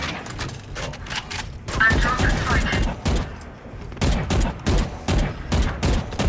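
Rapid bursts of gunfire in a shooter video game crackle close and loud in clustered volleys, with short gaps between them and a pause in the middle.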